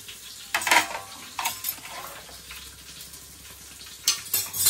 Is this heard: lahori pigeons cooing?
no